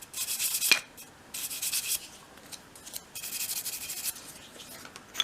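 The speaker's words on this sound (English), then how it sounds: "Use a soft brush to remove your sanding dust." A soft brush sweeps sanding dust off small cut door surround pieces for a miniature Christmas room box, giving quiet bristly rubbing strokes in several short bursts with brief pauses, close and faint.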